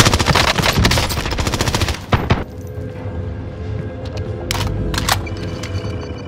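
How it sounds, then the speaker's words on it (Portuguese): Rapid automatic gunfire from the video game Call of Duty: Modern Warfare, a dense burst of shots that breaks off, followed by scattered single shots and a few short bursts over a steady low background rumble, loud and close. "Estão atirando!"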